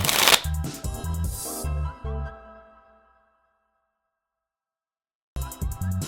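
A deck of playing cards is cut in a cardistry move, giving a quick series of sharp riffling snaps and clicks up close. A near-silent pause follows before another burst of card clatter.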